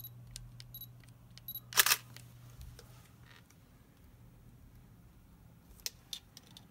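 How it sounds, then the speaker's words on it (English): Nikon SLR camera fitted with a Nikkor Ai-S 105mm f/1.8 lens gives a short focus-confirm beep, then a sharp shutter click, and a few faint ticks follow in a quiet room. "When the subject falls into focus, the focus point lights up, you hear a beep, and the shutter of the camera will work."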